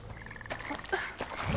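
A frog croaks in the video game Bramble: The Mountain King, a few short, low, gulping calls at moderate distance over quiet ambient music.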